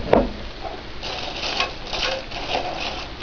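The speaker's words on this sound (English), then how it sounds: "Stir all that together" Goulash with noodles stirred in a large pan, a spoon scraping and clicking in a steady run of close, light strokes with no talk.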